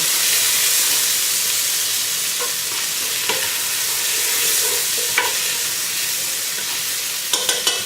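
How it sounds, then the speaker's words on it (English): Black pepper is stirred into a simmering curry crab soup, giving a loud continuous bubbling sizzle and hiss from the pot with a few light spoon clinks near the end. "I just added some black pepper. Stir that in."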